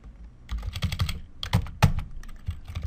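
Computer keys are pressed for a keyboard shortcut while working in a spreadsheet, a few close, sharp clicks in a loose irregular burst, quiet overall and with no talking.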